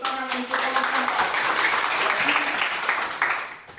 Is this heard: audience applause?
yes